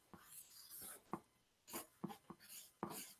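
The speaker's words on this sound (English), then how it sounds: "Let me write this down" Hand writing with a pen or marker, close and quiet: scratchy strokes in short irregular bursts separated by small taps and pauses, alone with no talking.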